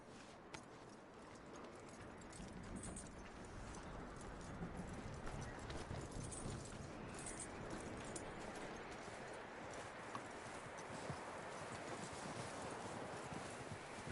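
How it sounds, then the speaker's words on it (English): Horse hooves clip-clop steadily in Red Dead Redemption 2, a continuous walking rhythm under a soft outdoor ambience, moderately close and fairly quiet throughout. "That looks like a decent horse."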